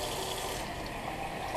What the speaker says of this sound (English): So we fill it up, put 2 cups in there, and pour it in our pot.